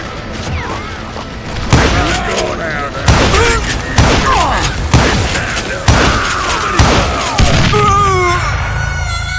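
Repeated heavy blasts and thumps from dynamite in the Western shooter Call of Juarez: Gunslinger, roughly one every second, loud and close, with gunfire and game effects mixed in and a voice talking over the action.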